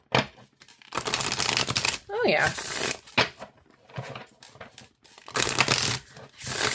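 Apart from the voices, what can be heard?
shuffling a deck of oracle cards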